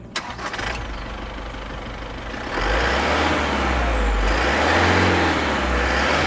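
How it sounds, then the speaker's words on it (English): An Isuzu D-Max diesel engine runs with a steady low clatter after a start-up burst, then its drone rises and swells as it is revved, close and continuous with no talk. "you're always well aware of the diesel clatter up front"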